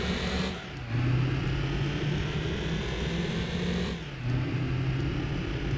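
A car engine in the video game Gran Turismo 2 drones and revs in steady waves, dipping briefly twice then climbing back to a sustained, loud whine.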